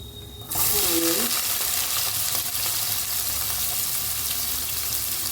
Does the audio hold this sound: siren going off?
no